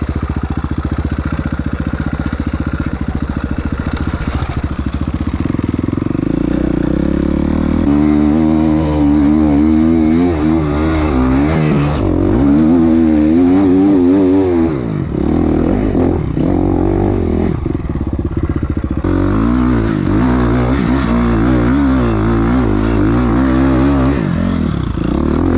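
A motorcycle engine roars loud and close throughout, straining and revving in waves under heavy throttle while climbing a very steep hill, with rattling and clatter mixed in.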